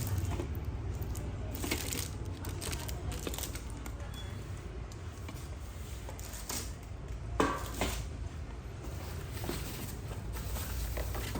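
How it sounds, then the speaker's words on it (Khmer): A boxed soup pot is unpacked and handled indoors, giving faint scattered taps, knocks and rustles over a steady background hiss, with one sharper clunk partway through and no clear voices. "ឆ្នាំងស៊ុបមួយយើងទទួលបាន"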